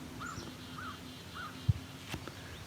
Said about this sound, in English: So the crow is the caw, caw, caw.